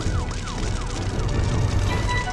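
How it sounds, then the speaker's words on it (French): Cartoon fire engine sirens wailing in rapid repeating up-and-down sweeps, loud and close over a rumbling vehicle engine, continuous throughout. "Je peux entendre les sirènes de pompiers."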